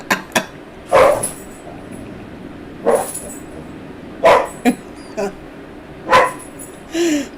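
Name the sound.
dog barking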